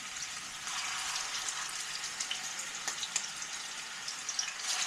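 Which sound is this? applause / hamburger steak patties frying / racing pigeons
hamburger steak patties frying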